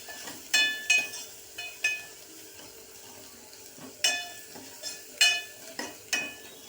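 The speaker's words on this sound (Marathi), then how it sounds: "आणि ही पेस्ट छान अशी फ्राय करून घ्यायची आहे।" Green chili, ginger and garlic paste frying for Puneri dal tadka, heard as a quiet low hiss broken by a series of sharp clinking stirs and scrapes at irregular intervals, with no talking.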